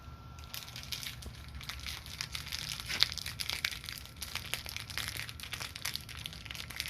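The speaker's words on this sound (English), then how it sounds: "This is crackling fire." Crackling fire, a steady run of dense snapping and popping crackles heard close up with no voices.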